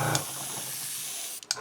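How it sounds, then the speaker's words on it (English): Airbrush hissing steadily as it sprays and splatters paint onto a vinyl top at about 8 psi, a continuous close air hiss that cuts off near the end before a couple of short bursts. "So if you can see how it's spraying, it's splattering."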